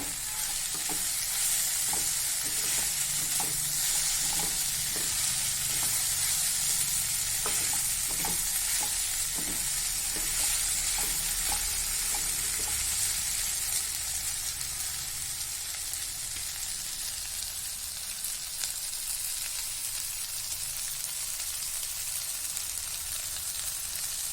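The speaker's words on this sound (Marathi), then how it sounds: "झाकण ठेवायचं नाही पाच मिनटं परतूया फक्त" Masala okra frying in a pan as it is stirred, a steady broadband sizzle with repeated scraping strokes in the first half, continuous and close, with no voices.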